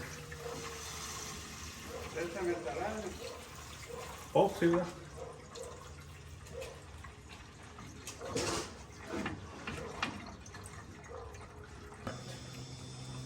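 Water poured into the radiator of a 1968 C10 pickup, an intermittent splashing and trickling fill with soft gurgles, faint and broken up, while someone talks over it.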